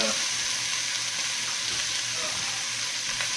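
Sausage and hamburger meat browning in a pan with minced garlic, a constant close sizzle and crackle of frying with faint stirring.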